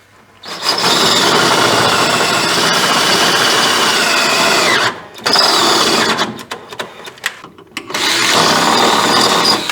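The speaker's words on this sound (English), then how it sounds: "I'm working on this last hole right here. Had to sharpen my drill bit." A power drill with a freshly sharpened bit whines steadily for several seconds boring a hole, stops briefly, then bores again with uneven bursts before running steadily once more, close and loud.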